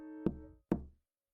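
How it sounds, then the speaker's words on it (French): Two sharp knocks on a wooden door in a fairy-tale scene, evenly spaced about half a second apart, close and distinct with a short ringing decay after each and silence around them. "Il frappa à la porte."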